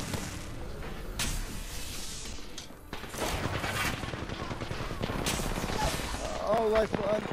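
Distant gunfire in a multiplayer shooter video game, scattered shots and short bursts cracking at moderate level throughout, with players talking over the action.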